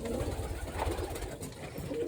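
Breeding pigeons coo softly amid a dense, noisy background, their low murmuring calls blending into the steady ambience.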